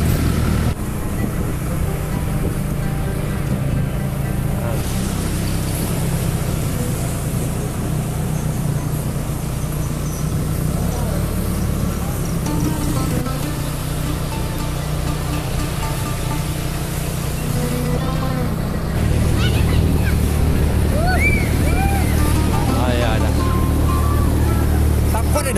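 A motorbike engine churns through deep flood water with constant sloshing and splashing, loud and close, while people talk over the noise.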